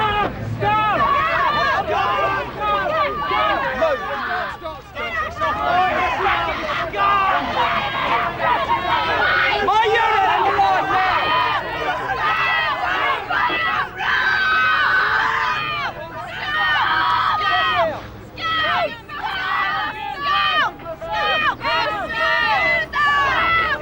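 A crowd of demonstrators and opponents breaks up as police separate them: loud overlapping voices, shouts and babble from many people close by, continuous throughout.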